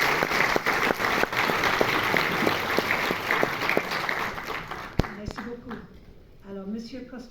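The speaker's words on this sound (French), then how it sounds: "Je vous demande de l'applaudir." An audience at a film screening presentation applauds in a steady, fairly loud burst of many hands that fades out near the end, where a voice begins speaking.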